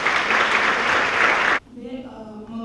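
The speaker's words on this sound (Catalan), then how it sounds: "us demano un fort aplaudiment per a ella" Audience applause for equality councillor Núria Grau at a tribute to women textile workers in Taradell, a loud, dense burst of clapping that stops abruptly, leaving quiet room tone with faint voices.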